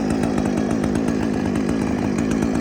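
Husqvarna chainsaw idling as it warms up after a cold start on choke, a loud close buzzing two-stroke drone with a fast steady pulse and no throttle changes.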